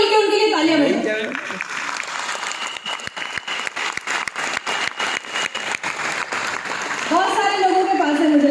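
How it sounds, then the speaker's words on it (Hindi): A crowd at a Vestige business seminar claps together for about six seconds in a dense, even burst, with a voice speaking just before it starts and again as it dies down. "बाकी सारे लोग मिलकर उनके लिए तालियां बजाएं"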